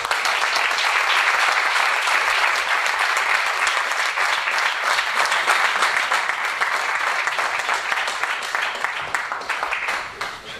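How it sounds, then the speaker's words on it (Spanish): Loud, sustained applause from a lecture audience closing a climate change conference series talk, dense clapping filling the whole stretch and tapering slightly at the end. "un aplauso fuerte para..."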